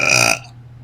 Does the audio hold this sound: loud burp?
yes